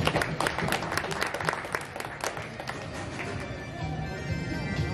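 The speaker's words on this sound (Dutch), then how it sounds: "Graag jullie applaus voor Marco." Audience applause for a shooter named Marco at a Dutch national veterans' shooting championship final, dense clapping from a crowd held steadily through the whole stretch with a faint hum beneath.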